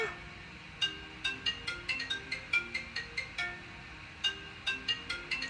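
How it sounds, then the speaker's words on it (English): A phone ringtone plays on its own during a get-ready-with-me makeup session, its bright electronic tones repeating in a steady chiming pattern of short notes at moderate, close volume, with no talk over it. "my phone is ringing"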